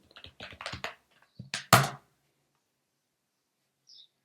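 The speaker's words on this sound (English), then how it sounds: "So I'm gonna type here" Keys on a computer keyboard are tapped in a quick, close run of clicks, then a few louder, sharper strokes, followed by silence and one faint final tap.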